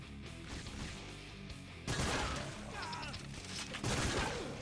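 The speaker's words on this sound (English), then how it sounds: "Ooh, new shotgun?" Shotgun fire in the game Painkiller Hell and Damnation, with sharp loud blasts at intervals over a busy background of crashes and game effects.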